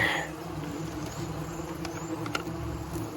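Honey bees drone in a queenless hive with very little brood, a steady, close buzzing hum throughout with a few faint clicks.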